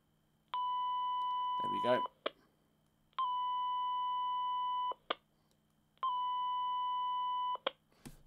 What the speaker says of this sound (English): we can do a 3 kilohertz signal